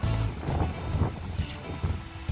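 Gusty wind buffets the microphone in uneven bursts at the seaside in Hong Kong, with a low rumble like open water or surf underneath.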